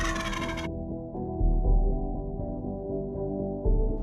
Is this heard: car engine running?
no